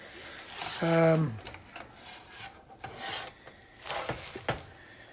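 Fruity Pebbles rice treat mixture being folded and stirred, giving soft scraping, rubbing sounds in short bursts, with a brief voice near the start.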